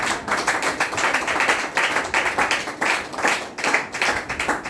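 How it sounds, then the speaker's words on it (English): A group of teachers claps at a seminar in an uneven, rhythmic patter of hands, with bursts rising and falling across the stretch, fairly close and with no talk over it. "So why are you clapping?"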